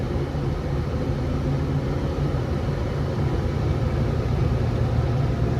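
A hay-mowing tractor engine rumbles steadily at close range, a low continuous drone with a faint tonal hum and no clear change in pitch across the few seconds.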